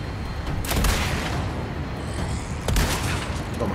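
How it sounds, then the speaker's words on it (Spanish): Gunfire in the video game Resident Evil 4 Remake, Separate Ways DLC, with two heavy booming shots standing out over a dense, noisy game soundscape. "Acá tiene disparos."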